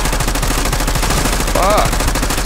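Rapid automatic machine gun fire in Call of Duty Black Ops 6 zombies mode: a dense, evenly spaced stream of loud close shots throughout, with a brief high game chirp partway through.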